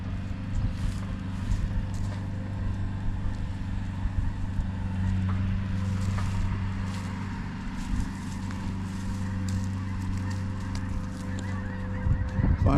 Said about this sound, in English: Finally starting to see some snow geese fly overhead too.